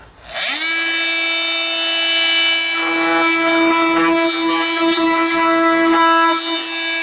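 An oscillating multi-tool cutting through foam board during a van build starts up abruptly and holds a loud, steady, high-pitched whine throughout, with slight rasping variation as the blade bites.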